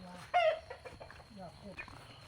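Chickens clucking inside a fenced farm enclosure in rural Lampang, Thailand, with a few short clucks and calls up close, and a person talking quietly in between.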